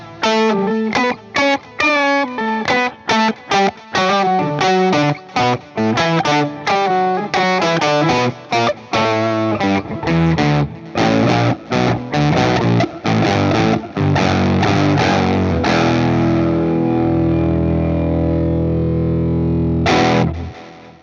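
Electric guitar through an octave-divider preset on a Fender Tone Master Pro, played as a distorted, thick riff of quick chugging notes that builds into sustained chords and ends on a ringing held chord, loud and alone.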